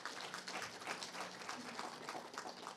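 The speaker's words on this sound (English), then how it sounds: "Please give her a loud applause." Audience applause at a lecture in the Dr. Theo-Ben Gurirab lecture series, a steady dense wash of many hands clapping that holds evenly at moderate loudness throughout, with no voices over it.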